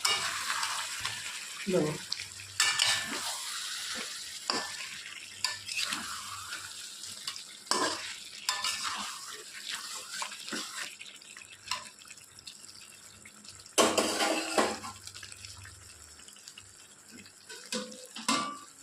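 Fried potato pieces stirred into chicken masala in a pan on a home stove, with repeated scraping and clattering strokes and a light sizzle, plus running water from a tap nearby and a brief spoken word.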